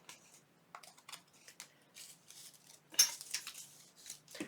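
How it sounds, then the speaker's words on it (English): Scissors snip through a book page and printed paper in a series of short, crisp cuts with small pauses, ending in a louder rustle of handled paper, close up and without talking. "So I'm cutting the book page away from my"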